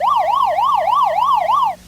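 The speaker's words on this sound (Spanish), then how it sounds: "Este comenzaba con una sirena de policía" A police siren from an old Japanese television broadcast wails loud and close, rising and falling in a fast, regular cycle about six times before cutting off.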